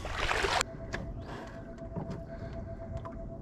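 A small boat is pushed off in calm, shallow water: a loud half-second rush of water and hull, then a thin steady motor whine continues with faint knocks and lapping in the background.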